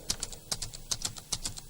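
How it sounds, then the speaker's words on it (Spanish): Notes are typed into Sibelius music notation software on a computer keyboard, giving a close, quick series of light plastic key clicks in an uneven rhythm. "Puedo poner las notas en la partitura virtual, tecleándolas aquí"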